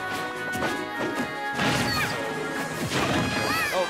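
Super Smash Bros fight sounds during a local ranked match: a run of loud crashing hits and smacks with whooshes and game effects, dense and continuous.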